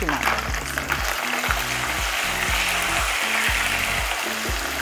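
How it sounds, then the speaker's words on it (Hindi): Garlic frying in a pan on a home stove, a continuous crackling sizzle at close range, with a few stirring scrapes and knocks mixed in, no talk. "देखिए हमारा लहसुन भी फ्राई हो रहा है"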